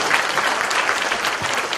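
Brief, steady applause from a crowd at a launch ceremony for a committee opposing the THAAD deployment in Seongju, many hands clapping evenly throughout.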